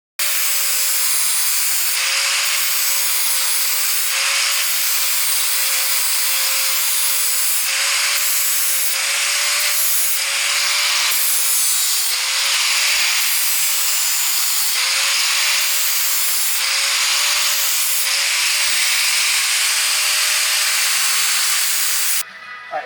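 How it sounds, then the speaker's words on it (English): Continuous hissing rub of 100-grit sandpaper working over a black walnut coffee table top, loud and close, with steady strokes and brief rhythmic pauses throughout and no talking. "And now I'm on to 100 grit sanding paper"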